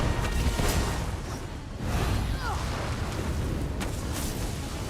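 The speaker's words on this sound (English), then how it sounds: "he shoots those fireballs at you" A boss hurls fireballs in The Elder Scrolls Online: repeated whooshing bursts and fiery roars over a constant rumbling battle din, moderately loud with no talking.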